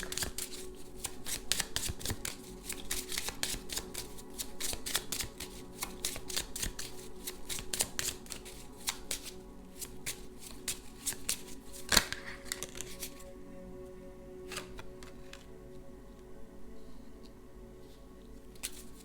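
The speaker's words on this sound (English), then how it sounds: "Let's pull a couple of cards from that deck." A tarot-style card deck is shuffled and cards are pulled, giving rapid riffling flutters and soft slaps up close that thin into sparse taps toward the end, with no talking.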